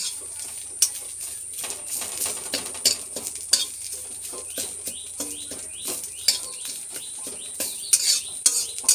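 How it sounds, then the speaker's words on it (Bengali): Curry leaves fry in a pan with a thin steady sizzle, punctuated by sharp clinks and scrapes of stirring, while birds chirp faintly in the background. "আজকে ভাজি কারি পাতা।"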